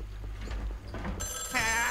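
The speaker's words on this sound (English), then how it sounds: "Oh, phone." A telephone rings in the Luigi's Mansion 3 video game, a warbling electronic trill coming in late and loud over low game ambience.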